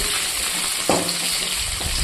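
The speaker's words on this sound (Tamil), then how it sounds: "சின்ன வெங்காயத்தையும் பூண்டு பள்ளையும் நல்லா எண்ணெயில் வதக்கிடுவோம்" Steady hiss of shallots and garlic frying in hot oil for fish curry, with a brief clatter of stirring near the middle and again toward the end.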